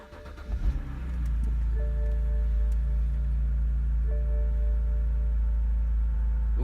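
A BMW 1 or 3 Series engine, after a rough-idle fix, cranks briefly, catches, and settles into a steady, smooth idle hum that holds evenly to the end.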